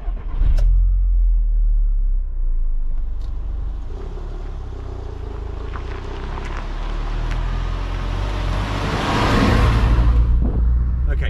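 A cheap used Audi TT pulls away and accelerates on the road, engine rumble rising and swelling toward a louder rev near the end, heard from inside the car with windows down.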